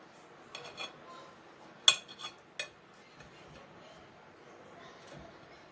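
A fork or knife clinks against a plate while a piece of freshly baked homemade cake is cut. There are a few sharp, close taps and scrapes, with a quiet room behind them.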